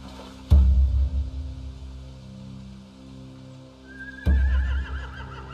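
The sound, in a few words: horses neighing, from a video game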